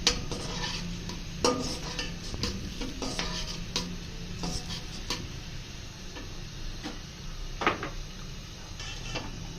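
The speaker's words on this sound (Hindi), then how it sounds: "अब फ्लेम थोड़ा सा हाई करके इसकी हम भुनाई करेंगे" Onions and tomatoes frying on a raised flame, with repeated stirring clicks and utensil taps against the pot over a continuous sizzle.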